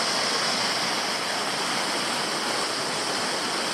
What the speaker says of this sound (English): it's still a nice waterfall.